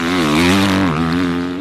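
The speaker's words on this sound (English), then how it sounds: "You can't mention the Kawasaki's engine without pointing out the obnoxious exhaust note." Kawasaki KX250F dirt bike engine, a loud, raspy, sustained exhaust drone held near and steady with a slight rise and dip in pitch.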